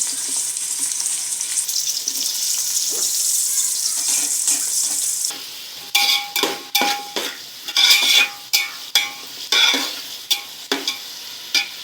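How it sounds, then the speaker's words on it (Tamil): Chilli and tomato fry in a pan for chicken biryani, first as a steady bright sizzle, then broken by a series of sharp scraping stirs with the sizzle swelling between strokes; no talking. "நல்லா இந்த அளவுக்கு பொறிஞ்சிருச்சா மிளகா தக்காளி"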